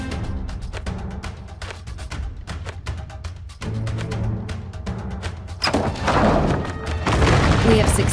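Heavy thuds and booming impacts roll through a mobile war strategy game as an enemy's east wall is battered down, with irregular crashes building into dense, loud rumbling near the end under a steady game soundtrack.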